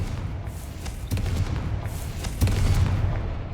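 The Confringo fire spell goes off in Hogwarts Legacy, giving two heavy booming blasts, one a second in and another mid-clip, over a constant low rumble of game sound.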